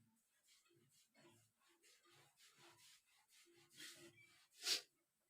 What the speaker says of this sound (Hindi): हम एक तरफ इसको रब कर देते हैं